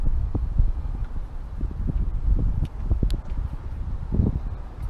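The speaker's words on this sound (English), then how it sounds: "There's a bit of wind, so it'll dry off pretty quick." Gusty outdoor wind on a wet boatyard day buffets the microphone as a steady low rumble with irregular surges and faint rustling throughout.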